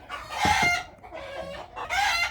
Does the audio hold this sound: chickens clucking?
yes